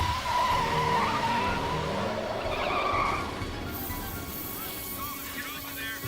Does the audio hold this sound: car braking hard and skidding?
yes